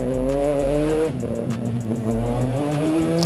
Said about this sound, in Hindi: अभी मैंने यहाँ पे प्रॉम्प्ट दे दिया बाइक रेसिंग इन रोड